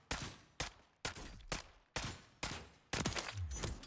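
Rifle fire from a Lachmann 556 in the Warzone video game: seven sharp, loud single shots at a steady, roughly half-second rhythm, each with a short decaying tail, with no talking.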